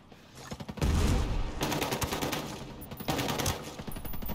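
Light machine gun fire in Ghost Recon Breakpoint, loud sustained automatic bursts with a brief pause and a second long burst, rapid and close, no voices.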